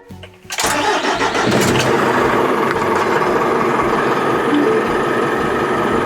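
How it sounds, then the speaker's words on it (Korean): A Hyundai Mighty 3.5-ton wing body truck's diesel engine cranks and catches after a brief quiet start, then settles into a loud, steady idle that carries on to the end. "그래도 한 2분 정도는 이렇게 기다렸다가 시동을 거는 게 좋겠죠"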